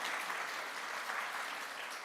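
Soft, distant applause from a congregation at a Sunday church service, honoring the Readers Theatre players, a smooth, continuous patter of many hands at low volume.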